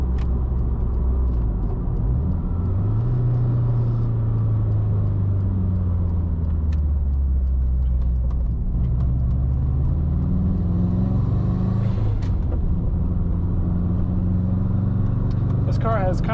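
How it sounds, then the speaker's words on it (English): A Subaru STI engine with short gearing drones and revs up steadily on a closed road, rising in pitch through the gears, loud and close with a rumbling tone and some talking over it. "The car drives real smooth."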